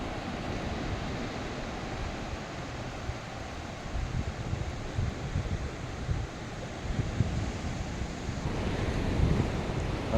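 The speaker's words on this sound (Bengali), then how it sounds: "ঢেউগুলো দেখুন কি সুন্দর আসছে।" Sea waves breaking on the beach at Tajpur, a broad rolling surf roar with wind buffeting the microphone, swelling slightly louder toward the end.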